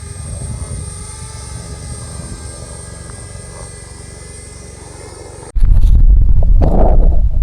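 A small camera drone hovers nearby with a steady, buzzing whine, then the sound cuts to loud, blustery rumbling.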